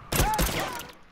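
Gunfire in The Last of Us Remastered multiplayer: a quick burst of two or three shots close together, with a voice shouting over them.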